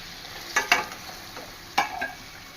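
Water goes into a sizzling pan of mutton curry with drumsticks, giving a few sharp splashing bursts and a hiss over a steady frying sizzle. No one speaks.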